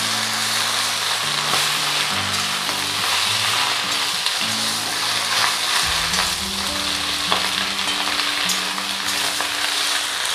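Washed jute greens hit hot oil with golden-browned onions, giving a loud, steady sizzle and crackle that carries through without pause, with a faint musical tone running underneath.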